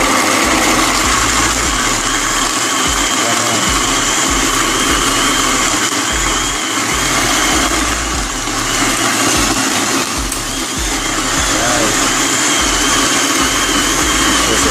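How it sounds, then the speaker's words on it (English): A blender mixes homemade rum punch with a loud, steady motor whir that runs close and unbroken for about fifteen seconds, dipping only slightly now and then. "Alright, so I'm done blending now"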